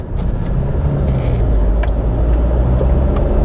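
A Kia Sportage bought cheaply for £1,000 pulls away, its engine a steady low rumble with broadband road and tyre noise, close and continuous throughout.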